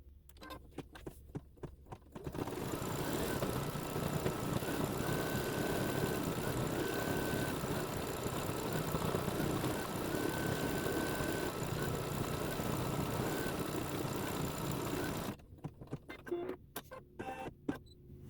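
A sewing machine runs continuously for about thirteen seconds, a steady fast mechanical hum and rattle, as it stitches purple thread detail and a spool's thread tail on a Christmas quilt block, with brief quieter handling sounds before and after.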